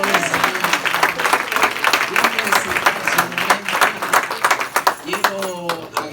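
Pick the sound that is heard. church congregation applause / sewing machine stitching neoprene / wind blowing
church congregation applause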